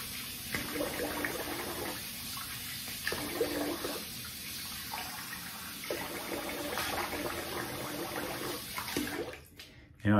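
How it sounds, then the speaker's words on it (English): Running water splashes steadily while someone rinses soap off a face after a safety-razor shave with a Rockwell Model T double-edge razor, continuous and close, with brief quieter gaps and faint talk at times. "I'm gonna rinse the face."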